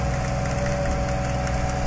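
A winch engine on a cable-pulling rig drones in a steady, dense idle with a constant low rumble and a faint knocking texture, running continuously with no speech.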